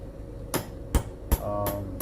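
A hammer strikes a metal punch on an axle nut of a 2011 Suzuki SX4 five times in quick, uneven succession, sharp ringing clanks close by.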